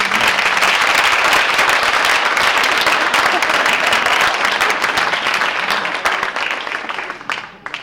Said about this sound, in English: If you guys could give them a round of applause.